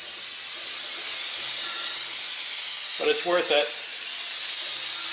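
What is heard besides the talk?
brake cleaner being sprayed on old undercoating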